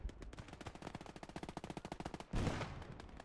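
Rapid automatic gunfire in the World War II video game Gates of Hell: Ostfront, during a modded PVP defense of Berlin: a long, steady burst of machine-gun shots, then a louder blast-like rush near the end.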